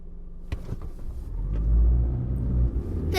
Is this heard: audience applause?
no